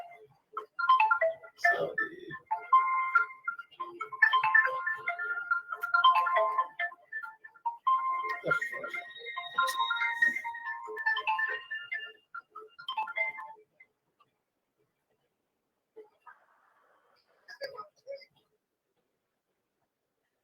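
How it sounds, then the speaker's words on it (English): A phone rings with a repeating electronic melody, faint and somewhat distant, playing for about thirteen seconds before stopping, followed by a couple of short chirps, and a voice briefly apologises. "there's some disturbance with phone"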